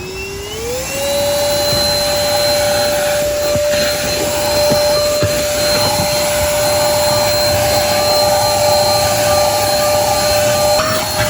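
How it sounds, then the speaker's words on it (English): A cordless handheld vacuum cleaner runs inside a car, spinning up in the first second into a loud, steady high-pitched whine and airy roar that holds without a break, with small bumps and rattles as it moves over surfaces. "I'm gonna do the review for the cordless vacuum in my car to show you how good it works"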